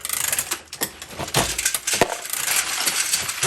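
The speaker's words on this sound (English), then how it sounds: "RL1100 from Dillion with a Mr. Bullet feeder" Dillon RL1100 progressive reloading press with a Mr. Bullet feeder loading 9mm ammunition, giving repeated close metallic clinks and clacks of brass and parts in an irregular mechanical rhythm, with no talking.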